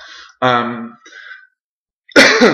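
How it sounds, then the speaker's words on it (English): A person clears their throat and coughs a few times, sharp raspy bursts close to the microphone separated by brief pauses. "or just a cough"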